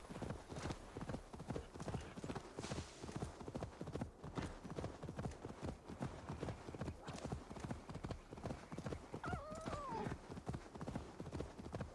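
Horse hooves clip-clop steadily in the video game Assassin's Creed Valhalla, an even galloping rhythm carrying on throughout, close and clear, with a brief whinny near the end.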